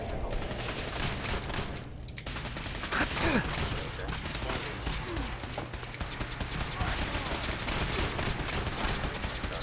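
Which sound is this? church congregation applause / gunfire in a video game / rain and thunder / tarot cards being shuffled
gunfire in a video game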